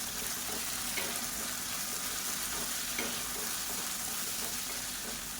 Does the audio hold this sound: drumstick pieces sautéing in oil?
yes